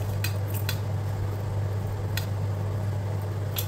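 A spoon clinks and scrapes in a bowl while bitter gourd stuffing is mixed, with a few scattered light taps over a steady low background hum.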